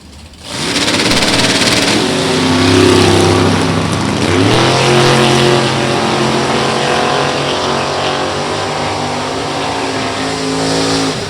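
Big-block Ford powered Falcon drag car at a drag strip, its engine roaring loud and steady, dipping briefly and then holding a heavy sustained rev for several seconds with no talking.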